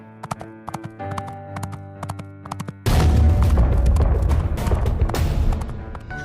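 Horse hooves clip-clop in a quick galloping rhythm as a story sound effect, then give way to a loud, dense rumbling burst like a charging army.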